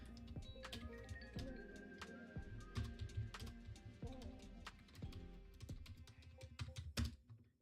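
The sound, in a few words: computer keyboard typing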